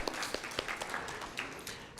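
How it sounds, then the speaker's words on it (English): A small audience at a fellowship capstone presentation claps briefly, scattered and faint in a large room. "someone is clapping"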